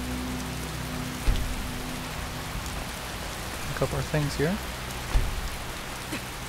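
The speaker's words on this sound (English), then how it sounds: "It's still raining" Steady rain falls in the video game The Elder Scrolls V: Skyrim, a continuous hiss of downpour running throughout, with a voice briefly talking over it and a few soft thuds.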